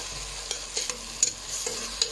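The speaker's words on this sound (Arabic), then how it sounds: "يا جماعه هنبدا نقلب اهو، نقلب باستمرار" A pot of seafood soup is stirred continuously, with soft scraping and a handful of light clinks against the pot over a quiet, low hiss; nobody speaks.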